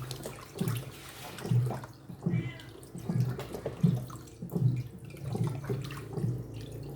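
Borot fish is washed under running water, with a steady tap stream and rhythmic splashing and rubbing as the fish is handled, fairly quiet and close.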